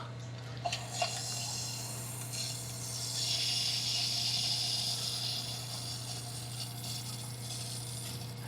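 Water rushes steadily through a valve while a boiler system is fast-filled, a continuous close hiss and flow above a constant low mechanical hum, with a few small clicks near the start.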